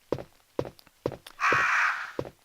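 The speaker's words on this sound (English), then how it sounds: "I've got a few crows in this room." In the Resident Evil game Bio Hazard, a crow gives a single raspy caw in a room, between a regular series of close, soft footsteps that continue before and after it.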